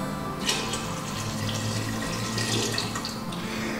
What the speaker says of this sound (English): I'm going to add water as I need it